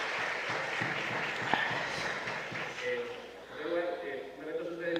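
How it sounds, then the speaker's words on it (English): Audience applause at the GET Forum 2025 innovation event in El Salvador, moderate and steady for about three seconds, then fading as a voice begins speaking over the thinning claps. "a round of applause for all the participants and their commitment"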